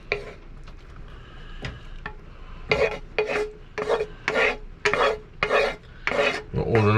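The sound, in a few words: liver, onions and juices scraped from frying pan into saucepan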